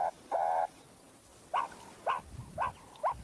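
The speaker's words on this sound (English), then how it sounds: "And now it changes into the high urgency." Meerkat high-urgency alarm calls in the wild: short, sharp chirping calls repeat in a quick series of about five bursts, fairly close and clear over a quiet outdoor background.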